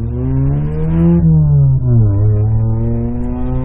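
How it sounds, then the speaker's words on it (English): A loud car engine drones close by on the street, its pitch sliding up, dipping and rising again as it passes, strong and steady throughout with no voices. "Loud ass car."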